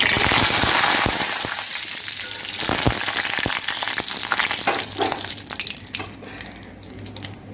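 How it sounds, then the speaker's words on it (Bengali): Dried red chilies and nigella seeds hitting hot oil for tempering, giving a loud, dense sizzle with scattered crackles and pops that gradually settles into a steadier frying hiss. "ফোড়নে দিব শুকনো লঙ্কা, কালো জিরে, ভালো করে"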